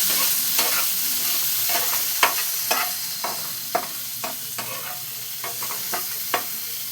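Chili flakes being stirred into food frying in a pan for a radish paratha, a steady sizzling hiss under roughly a dozen sharp, evenly spaced scraping strokes of the spoon against the pan, with no talking.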